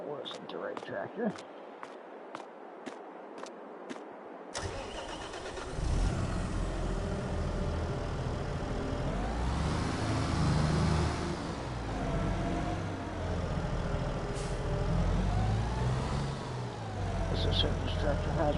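A tractor engine in Farming Simulator 22 drones steadily with rising and falling revs after an abrupt start, a mid-pitched motor hum running for many seconds while a person talks over it.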